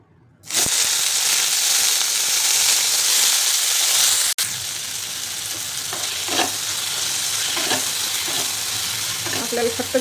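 Brinjal (eggplant) hitting hot oil in a pan with a sudden loud sizzle that settles into steady frying, with a few scrapes and stirring knocks later on, no voices.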